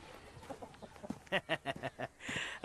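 A rooster clucks in a quick run of short, rhythmic calls, ending in a louder, drawn-out squawk, with faint murmuring in the background.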